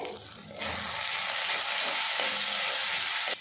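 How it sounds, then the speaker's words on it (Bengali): Ground cumin, coriander and Kashmiri red chilli powder fry with whole spices for a pointed gourd and jackfruit seed curry, swelling into a dense, steady sizzle with faint stirring scrapes before dropping away. "মশলার সাথে গুঁড়ো মশলাটা কিছুক্ষণ নাড়াচাড়া করে নিয়েছি"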